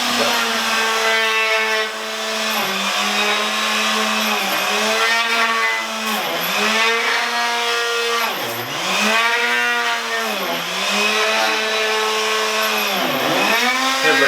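A router on a Woodpeckers slab flattening mill cuts across a wooden board with a loud, steady whine that sags in pitch every couple of seconds as the bit bites in, then recovers on each pass.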